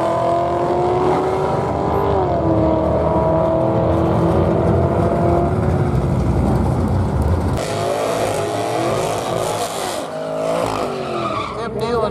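A drag race car roars down the strip at Barona Drag Strip, loud and sustained with squealing tires and engine howl, over the steady voice of a track announcer.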